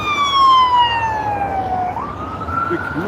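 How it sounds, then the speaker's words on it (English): Ambulance siren wails loudly close by, its tone sliding downward as the vehicle passes, then rising again, over road traffic noise. "The ambulance that just passed by"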